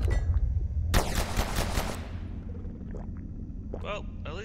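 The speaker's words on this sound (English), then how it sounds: "he's shooting all in the middle of the bar" Rapid gunfire bursts out in the Abiotic Factor video game, a loud dense volley lasting about a second and fading into a lingering rumble, with scattered fainter shots and game noises afterward.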